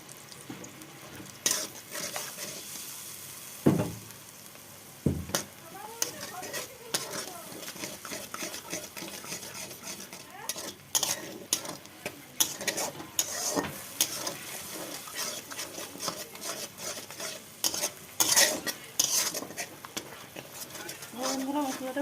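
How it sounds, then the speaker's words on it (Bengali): Masala spice paste with turmeric is stirred and fried in a pan, a steady broadband sizzle under repeated scraping strokes of a spoon against the metal, with occasional sharper clinks and knocks, close and moderately loud, with no talking. "বন্ধুরা মশলাটা কষিয়ে নিচ্ছি।"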